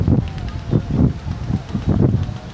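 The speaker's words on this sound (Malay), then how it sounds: "Oh, angin kuat." Strong wind buffets the microphone at a beach, coming in loud, rumbling gusts that swell and fade in quick pulses, close and dominant throughout.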